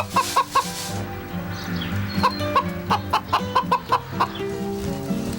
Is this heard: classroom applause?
no